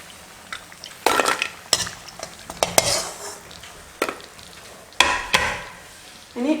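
Kuzhalappam, Malabar rolled rice snacks, frying in oil with a soft sizzle beneath sharp metallic clatters as a fried batch is scooped from the pan, heard close up with no talking.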